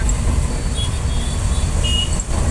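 Dense road traffic idles and moves at a busy city signal, a loud continuous low rumble of car and heavy vehicle engines close by with no talk.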